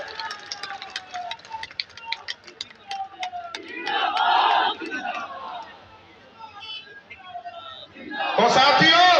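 A crowd at a political nomination rally in Jahanabad, Bihar, shouts and cheers in loud swelling bursts, with an amplified voice speaking over the noise between the surges.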